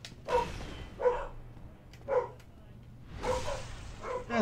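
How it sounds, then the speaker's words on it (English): Dogs bark in Dark Souls Remastered, several separate yapping barks spaced about a second apart, moderately loud over low background noise. "Oh god, fucking dogs."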